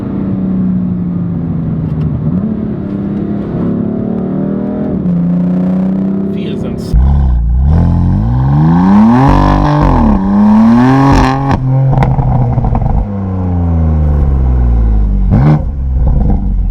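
A BMW M4 with its inline-six engine revs hard from inside the cabin, pitch climbing and falling in repeated rising sweeps with a loud, throaty rumble, while someone talks over it.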